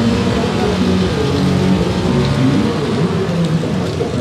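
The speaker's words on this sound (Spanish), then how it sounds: "Está lloviendo perrón aquí todo el día." Heavy, steady rain falling all day in Sombrerete, Zacatecas, Mexico, a dense continuous wash of drops at even loudness throughout.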